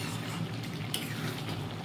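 Mutton being stir-fried in a wok-style kadai, a steady close sizzling hiss with faint scraping of the stirring utensil running unbroken throughout.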